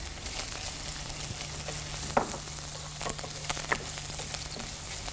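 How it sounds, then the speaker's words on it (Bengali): Chopped onion and green chili sizzle in hot oil for a chicken jalapeño fry, a steady close hiss with a few sharp crackles and spoon stirs, no voices. "এখানে একটু তেল দিয়ে দিচ্ছি। এটা কি যে কোনো তেল দিলেই হবে? যে কোনো তেল দেওয়া যায়, ইচ্ছা করলে তুমি বাটারও ইউজ করতে পারো। পেঁয়াজ কুচি আর কাঁচামরিচ কুচি দিয়ে দিচ্ছি।"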